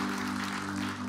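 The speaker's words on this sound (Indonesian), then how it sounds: "Berikan tepuk tangan buat Tuhan" A church congregation claps for God during a sermon, a brief steady patter of applause with a sustained low organ or keyboard tone underneath.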